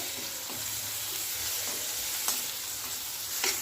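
Chopped tomato frying with turmeric and coriander powder in a pan, giving a soft, even sizzle close by, punctuated by a few light scrapes and taps of the stirring spoon.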